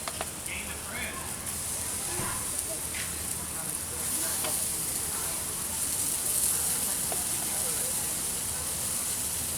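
Bacon-wrapped venison steaks sizzle on a hot grill grate at a state park campsite, a steady broad hiss with faint pops, held continuously and close.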